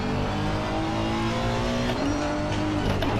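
A Honda NSX GT3 race car in Assetto Corsa Competizione at Catalunya gives a loud, steady, close engine drone that shifts pitch as it changes gear, with a hint of tyre noise and no talk.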